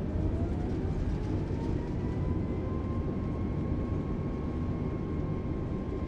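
Airliner using reverse thrust on a landing rollout in MS Flight Simulator 2020, a steady low engine roar with a faint rising whine, running evenly throughout with no speech.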